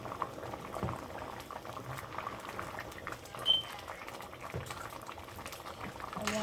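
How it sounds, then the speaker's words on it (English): A pot of Guyanese-style brown rice cook-up with pigeon peas bubbles at a rolling boil, a soft, continuous simmering patter with occasional pops, close and fairly quiet. "I want this to boil up a little bit more so that the rice can get a little soft"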